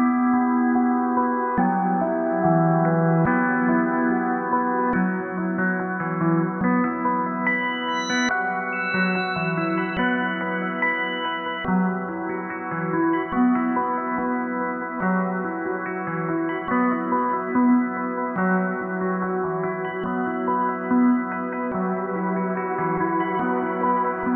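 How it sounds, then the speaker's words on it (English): Sustained, layered tones ring out with heavy reverb and echo, notes blending into a continuous washed-out wash of sound for the whole stretch. "so as you guys can tell, I added the reverb"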